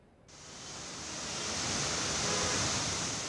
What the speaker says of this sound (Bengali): বৃহস্পতিবার সকাল থেকেই রাজধানীতে ঝড়ো হাওয়ার সাথে ভারী বৃষ্টি।